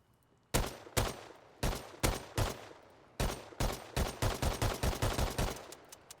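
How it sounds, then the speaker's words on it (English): A weapon fires in a sandbox video game: a string of loud, sharp synthetic gunshots, first spaced single shots and then a faster, rhythmic burst of about a dozen rounds, each with a short decaying tail, no talking. "I've never fired this weapon"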